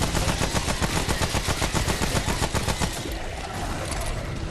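Particle accelerator weapon firing in Remnant: From the Ashes, a rapid, evenly spaced stream of loud automatic shots for about three seconds before it cuts off into a fading hiss.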